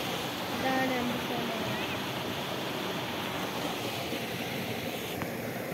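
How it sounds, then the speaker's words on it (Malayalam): A waterfall gives a steady, broad rushing roar that holds evenly throughout, with a faint voice-like tone near the start. "ഇതാണ് വെള്ളച്ചാട്ടം"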